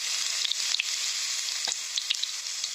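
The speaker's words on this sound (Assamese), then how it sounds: "এতিয়া মই ইয়াতে পাঁচফোৰণ কেইটামান ফুটাই ল'ম" Panch phoron and crushed garlic sizzle in hot mustard oil, a loud, steady frying hiss with scattered sharp pops and crackles as the spices splutter.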